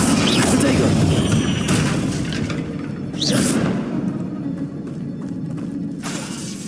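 Hogwarts Legacy Bombarda spell explosion, a loud boom with shattering debris at the start followed by another sharp blast and whooshing crash a few seconds later, all within busy spell-combat noise.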